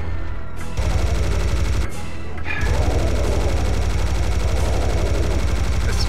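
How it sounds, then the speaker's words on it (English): Sustained rapid automatic gunfire from a minigun in the shooter game Serious Sam HD: The Second Encounter, loud and continuous with short breaks, layered with other combat noise. "I can get the minigun."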